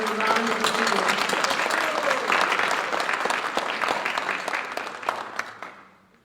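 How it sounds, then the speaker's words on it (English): Applause for a graduate at a Creative Technologies class of 2020 ceremony: a dense, steady round of clapping from a crowd that holds for several seconds and then fades away. "Please give him a round of applause."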